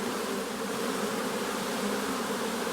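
Honeybees swarming around hive frames in garrigue scrubland, a dense, steady, close buzzing hum with no pauses.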